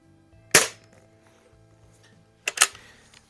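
A Tech Force TF-79 CO2 target rifle in .22 firing pellets: two sharp close shots about two seconds apart, each a loud crack with a quick decay, over a quiet background.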